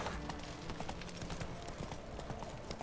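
Horse hooves clip-clopping in a steady galloping rhythm in the video game The Witcher 3, faint and continuous under a wash of game ambience, with no talking.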